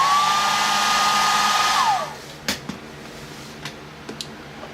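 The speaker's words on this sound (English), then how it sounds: "Now I'm gonna use my blow dryer to dry this off." A handheld blow dryer runs loud and steady, drying paint on a miniature figure, then switches off and winds down around the two-second mark, leaving a few faint light taps in a quiet room.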